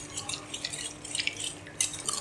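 Fresh cream, Haleeb brand, being mixed by hand in a bowl for a creamy fruit chaat, making soft wet clicks and light scraping strokes in an irregular quick rhythm, close and fairly quiet, with no voices.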